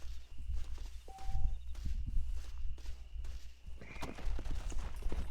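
Horse hooves clip-clop at a riding pace in the Western video game Red Dead Redemption, a steady run of close thuds over ambient game sound, with a brief spoken word over them.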